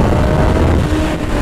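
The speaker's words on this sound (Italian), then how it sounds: "però c'è il giusto suono, soltanto lo scarico finale GPR, i connettori sono originali e il motore idem." A Suzuki GSX-R 750 restomod with an original engine and a GPR end exhaust makes a loud, steady, close engine drone that holds without pause.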